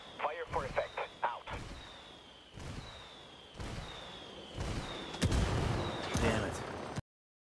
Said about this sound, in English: Call Pacatari for some mortar fire